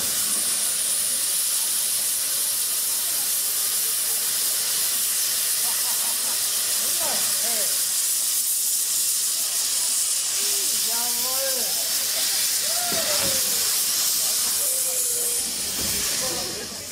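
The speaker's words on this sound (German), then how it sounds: "Für die Strecke mit mehreren Haltestellen benötigt der Dampfzug etwa 30 Minuten." Steam locomotive No. 20 in the Achertal lets out a loud, continuous hiss of escaping steam that fills the whole stretch, with a few faint tonal squeals rising above it toward the end.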